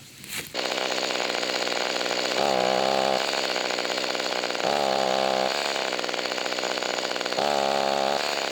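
A new chainsaw idles loudly and steadily, and three times the trigger is pulled, its engine note briefly rising then sagging as it bogs down instead of revving cleanly.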